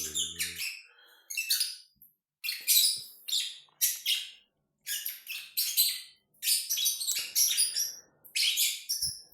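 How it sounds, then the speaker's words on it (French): Several songbirds sing and chirp in bright, repeated bursts of high notes with short pauses between them. The birds sound fairly close and clear, with no voices over them. "Nous sommes avec des oiseaux qui nous aiment, comme cela."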